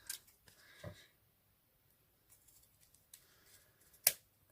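Scissors cutting through faux leather for a no-sew pinch bow, a few quiet snips and crisp cuts spaced apart, with a sharper closing snip near the end, close and otherwise near silent.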